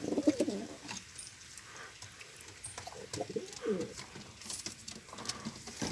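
Pigeons coo outdoors where breadfruit is being roasted, with low throaty calls rolling in near the start and again midway over a busy background and some faint voices.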